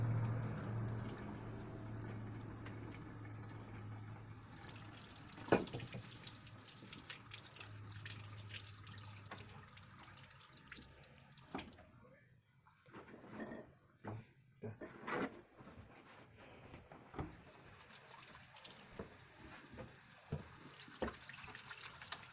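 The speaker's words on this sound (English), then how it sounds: "Always wash your hands before we begin." Hands being washed under a running kitchen tap before cooking, with a steady close hiss of flowing water broken by brief splashes and clatters, faint voices underneath.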